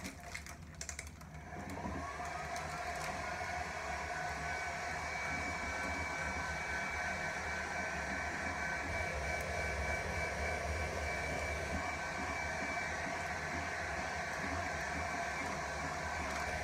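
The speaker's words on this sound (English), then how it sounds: "you can just take the heat gun without the parchment and just go over it." A heat gun blows over a homemade Easter candle, a steady, close whooshing roar with a faint whine that holds evenly after a short burst of handling noise at the start.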